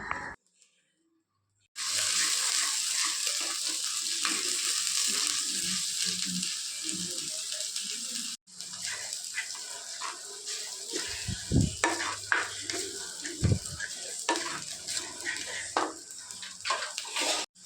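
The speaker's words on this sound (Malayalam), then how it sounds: "ചട്ടി ചൂടായി വന്നപ്പോഴത്തേക്കും അതിലോട്ട് വെളിച്ചെണ്ണ ഒഴിച്ച് ഇഞ്ചി കടുക് വെളുത്തുള്ളിയും കൂടെ അരച്ചെടുത്തത് ആദ്യം വഴറ്റിയിട്ടും" Ground ginger, mustard seeds and garlic sizzle loudly in hot coconut oil in a pan, starting after a brief silence and running steadily with a short break, with scraping stirs and utensil clinks and no talking.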